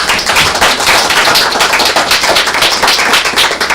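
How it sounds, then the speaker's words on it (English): An audience at a panel on air quality and land use applauds its speakers: loud, steady, dense clapping throughout, with no voices over it. "let's give a round of applause for our speakers"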